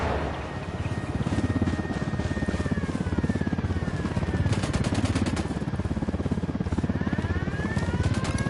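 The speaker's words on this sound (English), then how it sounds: "Helicopter, get down." A helicopter in Tom Clancy's Ghost Recon with rapid rotor thumping pulses continuously overhead, with whining engine tones and bursts of distant gunfire mixed in.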